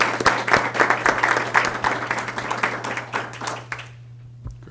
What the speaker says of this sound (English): I'd love to give her a round of applause.